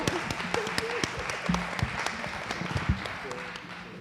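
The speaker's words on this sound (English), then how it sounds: "Will you give them another round of applause?" Applause from a panel discussion audience, with dense scattered clapping over a steady crowd bed and some voices mixed in.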